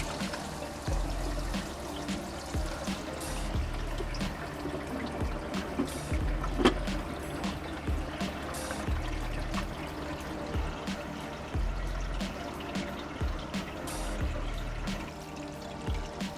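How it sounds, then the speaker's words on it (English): Water trickles and splashes steadily into an aquarium sump by a protein skimmer, a continuous gurgling flow with small irregular drips and spills, close by and without voices. "I hear the water trickling into the sump"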